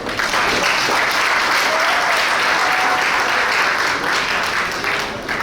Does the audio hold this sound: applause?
yes